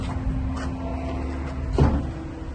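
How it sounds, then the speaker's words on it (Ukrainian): The rear doors of a new MAN TGE electric van are opened, giving a single solid latch clunk and thud near the end over a faint steady hum, with no talking. "Відкриємо задні двері."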